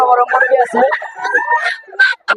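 A large local rooster at the Jinjira poultry bazaar gives a loud, close crow, a long strained call that rises and breaks into short bursts near the end.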